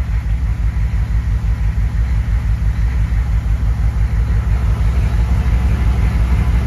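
Diesel truck with a fuel injection pump fault idles with a loping idle, a close, steady low rumble pulsing in an even rhythmic beat with no talking.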